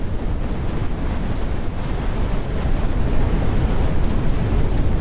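Tornado wind in a video game roars as a dense, continuous rumbling gust, loud and unbroken, swelling slightly louder toward the end.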